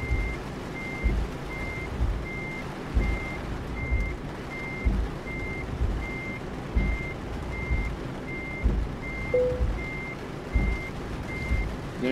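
Truck reversing alarm in Euro Truck Simulator 2, a steady evenly spaced beep repeating about every second for the whole stretch over a low rumbling diesel engine, with no talking.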